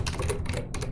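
Computer keyboard typing up close, a quick burst of several soft key clicks in an uneven rhythm over less than a second, with no talk.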